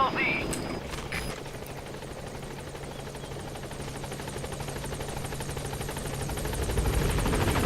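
The Pequod helicopter from the video game Metal Gear Solid V arrives with a steady, loud rotor thrum and engine drone that swells slightly toward the end, with brief radio-like voice bursts at the start.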